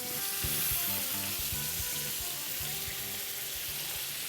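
Fish sizzling in brown butter in a skillet with lemon squeezed over it: a steady, close, loud frying hiss that runs unbroken throughout, without speech.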